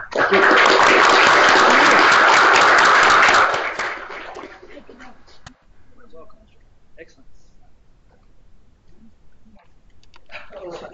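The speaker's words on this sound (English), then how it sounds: "let's end this with an applause for our presenters" Webinar audience applause for presenters, a dense burst of clapping for about four seconds that quickly fades, followed by faint scattered sounds and brief talk.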